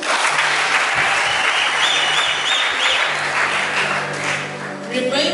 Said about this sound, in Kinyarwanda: Mureke tubakomere amashyi.